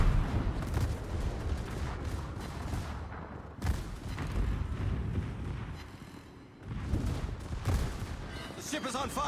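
Rapid volleys of ship secondary guns in World of Warships, dense overlapping booms and cracks firing continuously, with a couple of sharper louder blasts standing out.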